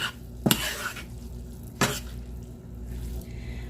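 A jasmine rice mixture for stuffed bell peppers being stirred in a pot, two sharp spoon knocks against the side over a low background hum, close and fairly quiet.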